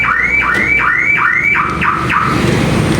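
A car alarm siren on a Toyota Corolla, set off during a door switch sensor test, wails loud and near in a steady cycle of repeated rising sweeps with no other sound.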